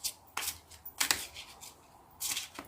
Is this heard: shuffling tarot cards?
yes